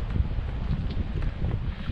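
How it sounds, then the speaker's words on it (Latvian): Wind blowing steadily across a hillside viewpoint, heard as a continuous low rumble of gusts buffeting the microphone, fairly loud throughout with no talking. "te vējals pūš"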